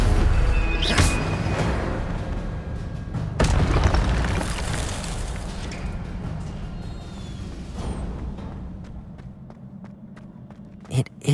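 Spells Incendio, Protego and Stupefy cast in the video game Hogwarts Legacy, heard as booming blasts and bursts amid running footsteps, followed by quieter stretches and a final sharp pop, with speech among the effects.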